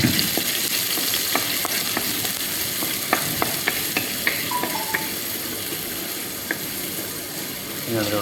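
Cumin seeds and garlic frying in oil in a frying pan while being stirred, a constant bright sizzle punctuated by scattered light clicks and scrapes of the spoon against the pan.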